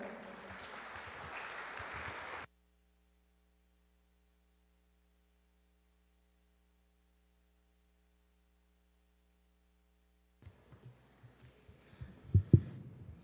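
An audience at an education workers' union gathering claps to welcome a speaker. The brief burst of applause cuts off abruptly into near silence, followed later by faint scattered thumps and handling noise.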